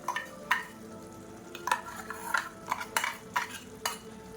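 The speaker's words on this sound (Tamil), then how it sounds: "சேர்த்து கலந்து விட்டுக்கலாம்." Brinjal and drumstick thokku with coconut paste being stirred in a pan, a series of close scraping strokes in an irregular rhythm over a soft steady sizzle.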